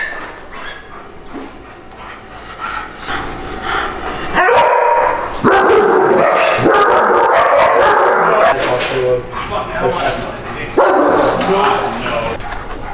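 A dog barks and yips repeatedly in bursts, fairly close, with whimpers in between and people talking over parts of it.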